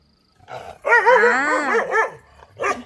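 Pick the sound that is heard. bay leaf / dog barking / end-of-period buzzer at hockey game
dog barking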